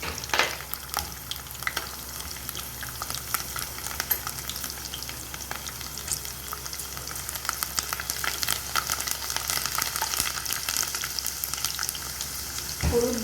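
Garlic frying with cumin in a pan for a Gujarati vegetable dish, a steady close crackling sizzle with scattered pops throughout, no talking.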